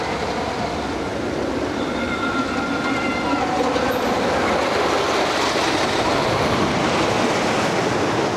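A Millennium Flyer roller coaster train runs along its track with a dense, continuous rolling roar and rattle that stays loud and unbroken throughout.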